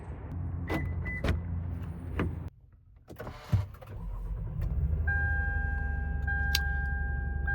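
A 2010 Lexus RX350 engine idles with a low, uneven rumble after a few clicks and clunks, running steadily but slightly irregular near the listener, misfiring from failing ignition coils.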